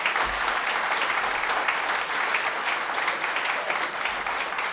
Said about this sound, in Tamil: இந்த கைத்தட்டு பத்தாது.